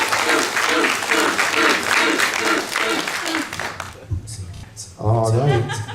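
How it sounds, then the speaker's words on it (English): Audience applause at a convention extravaganza stage event, a steady wash of clapping for about four seconds that drops out, then returns loudly with voices talking over it. "let's give another big round of applause for Bootz."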